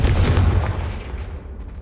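A booming fiery blast from the Confringo explosive spell in Hogwarts Legacy, one heavy loud burst at the start that rumbles and decays over the next second or so.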